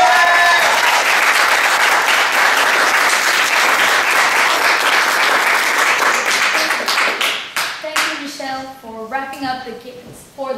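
A debate tournament audience breaks into loud, sustained applause with cheering mixed in, holding for about seven seconds before thinning into scattered claps under voices.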